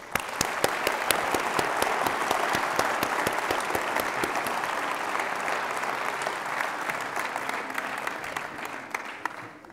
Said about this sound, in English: Big applause for Daniel Rodrik.